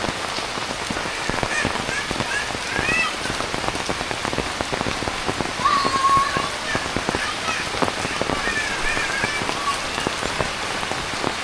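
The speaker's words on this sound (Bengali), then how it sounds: "বৃষ্টি দেখবার লাগছো" Rain falls on a village roof in a steady, dense patter of close drops that continues unbroken throughout, with faint voices now and then.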